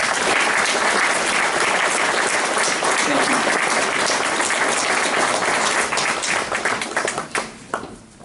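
Dense, loud audience applause at a Coquille Chamber of Commerce Chocolate Fantasy event, sustained clapping from a large crowd that fades and thins out toward the end.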